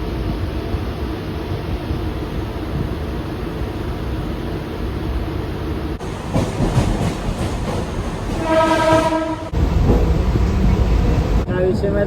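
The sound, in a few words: Mumbai local train running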